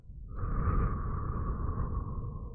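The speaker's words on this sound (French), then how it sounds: "Et tu souffles." A single slow, steady exhale during a calm ASMR breathing exercise, close and soft, with a breathy hiss that swells briefly and then trails off evenly for about two seconds.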